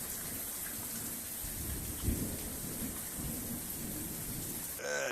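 A thunderstorm brings steady rain hissing on surfaces while low thunder rumbles roll through, one stronger burst near the middle, and a brief sharp noise at the very end.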